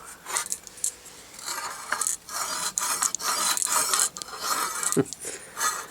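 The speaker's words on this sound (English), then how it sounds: "give it all a nice sand" Sandpaper rubbed by hand over small parts of a Briggs & Stratton engine, a close rasping scrub in quick back-and-forth bursts with a brief metallic clink near the end, and no talk.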